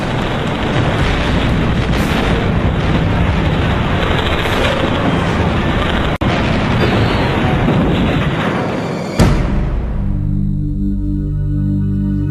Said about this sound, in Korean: 텍사스호를 비롯한 연합군 전함들은 해안 근처로 이동해서 적진을 향해 맹포격을 가했다.